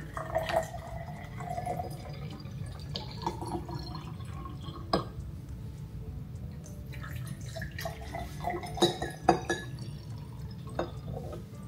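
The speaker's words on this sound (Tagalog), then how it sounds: "ang gagawin lang natin is lagyan ng tubig" Water poured into a cup to mix an Unimate drink, heard as faint dripping, splashing and clinking glass trickles at close range in a quiet room.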